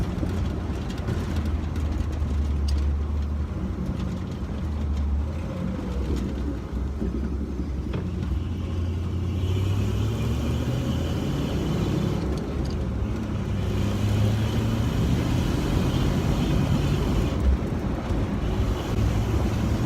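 A 1974 Ford Bronco's engine drones steadily from inside the cabin while driving, low rumble rising and dipping as gears change, with wind and road noise over it and no talk.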